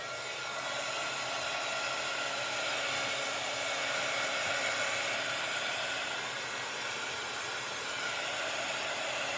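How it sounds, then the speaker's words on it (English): A hair dryer used for a paper doll doodle craft blows in one steady, bright, airy whoosh, running loud and unbroken with no voices. "Now let's blow dry that."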